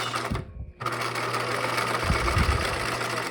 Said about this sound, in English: Over at my machine, we're doing a straight seam, a plain regular seam on our stitching line